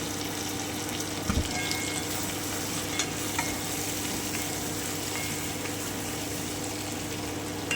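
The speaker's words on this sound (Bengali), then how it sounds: "এবারে আমি চিকেন বলগুলোকে দিয়ে দিচ্ছি আমি খুব ভালো করে একটু মিশিয়ে নিচ্ছি" Chicken balls for chicken manchurian stirred into a pan on low heat, with a steady sizzle and frying hiss throughout and a few scraping spoon strokes.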